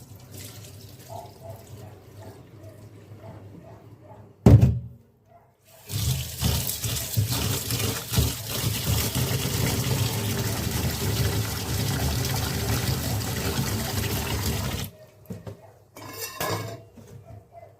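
Running water from a kitchen tap splashes steadily over soaked grains in a metal vessel, with brief clinks of dishes at the start and end; a loud knock interrupts early on.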